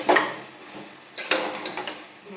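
A spoon scrapes and clatters against a pot of mixed vegetables in two short bursts of stirring, close and fairly loud, with no talking.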